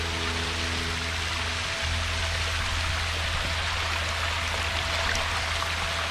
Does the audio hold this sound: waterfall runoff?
yes